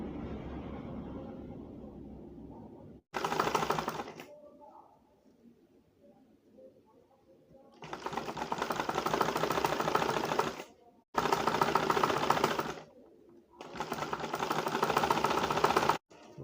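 A sewing machine stitches the top of a cap in several loud, close bursts of rapid, even whirring, stopping and starting a few times, with quieter stretches of handling and background noise between runs.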